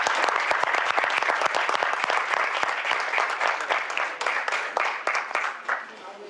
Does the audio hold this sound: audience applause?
yes